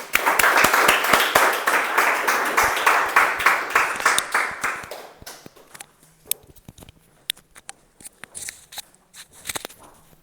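A Toastmasters club meeting audience claps to welcome the Toastmaster of the day, starting as a dense round of applause that thins after about five seconds into scattered individual claps and light shuffling sounds.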